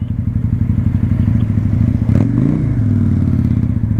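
A motorcycle being ridden on city streets, its engine a loud, close, steady low rumble with a rhythmic pulsing throb and a brief rise in pitch as it revs midway.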